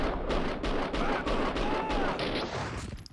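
Continuous gunfire in the shooter game Max Payne 2, dense repeated shots and bursts forming a loud, steady barrage with no pause.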